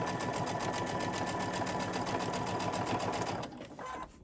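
A sewing machine stitches a fabric weight cover in a fast, steady mechanical whir, close and continuous, then slows and stops near the end.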